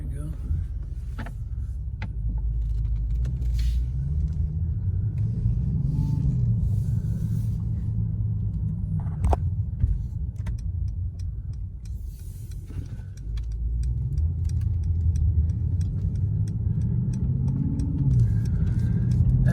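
A 2018 Mercedes S63 bi-turbo V8 gives a deep, steady engine rumble heard from inside the cabin, swelling slightly partway through, with faint rattles and clicks on top.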